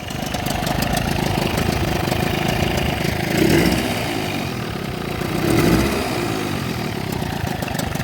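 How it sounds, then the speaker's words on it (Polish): A small engine of a 1990 Jawa-style Johanson 20KM moped idles steadily nearby, warmed up, a constant putter that swells slightly twice, with no voices over it. "silnik chodzi już pół godzinki"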